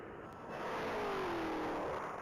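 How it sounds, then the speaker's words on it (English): A silver 2023 Dodge Challenger Hellcat accelerates hard down a mile-long top-speed racing course, a loud rising engine roar that swells and sweeps past over about two seconds. "going down the mile with his silver 2023 Hellcat"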